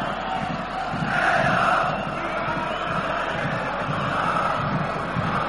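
A group of German supporters in a stadium chants and cheers during a 1991 Red Star Belgrade versus Bayern football match, a massed crowd roar rising and swelling in waves, distant and sustained.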